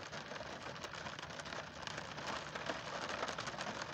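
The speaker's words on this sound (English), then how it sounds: "And listen to the sound of the falling rain." Steady rain patters on a car roof and windows, a dense, even hiss of drops close by that continues without pause and without any voices.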